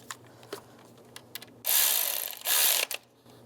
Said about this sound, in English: Tighten that nut down.